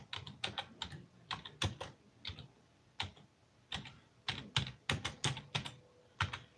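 Someone types with one hand on a computer keyboard in uneven bursts of close, crisp key clicks, with short pauses between clusters and no voices.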